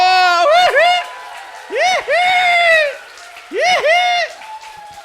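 A crowd at a health talk lets out three loud rising-and-falling group whoops of cheering, each a couple of seconds long with short pauses between.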